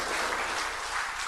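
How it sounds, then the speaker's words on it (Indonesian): Brief burst of applause for a minister at a government handover ceremony, a short stretch of steady, moderately loud clapping from the audience with no talking. "Tepuk tangan sekali lagi untuk Bapak Menteri."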